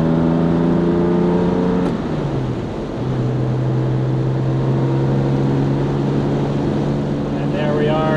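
A Jaguar E-Type coupe accelerates through the gears on country backroads, its steady engine drone climbing in pitch before it drops at a shift and settles into a lower, sustained cruise tone. The engine stays loud and close throughout.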